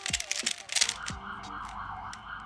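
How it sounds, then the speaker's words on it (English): A police car siren wails faintly in the distance as a steady wavering tone, beneath a burst of sharp plastic clicks from a speed cube being turned close by. "Why did a police car ruin this moment?"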